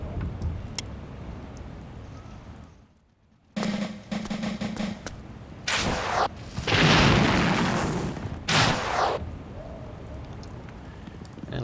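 Cannon blasts in the Stratego video game come as rumbling, crackling explosion bursts over a steady hiss, one long roar following several shorter booms, with a brief silence before the first blast.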